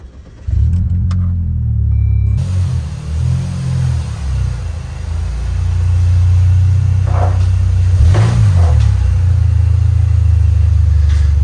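A Saab 9-3 engine idles and revs with a low steady rumble, rising in pitch as the car moves slowly into a garage, close by and continuous.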